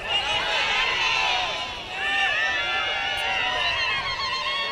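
Large crowd at an outdoor CUF party rally in Mtambwe roaring and ululating, a dense sustained wall of shrill trilling voices and cheers, loud and continuous with a brief dip midway.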